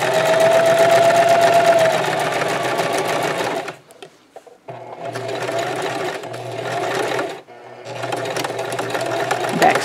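A sewing machine stitches a scrub cap in loud bursts: a long run, a short pause, another run, a second pause, and a final run, each with a steady mechanical whir.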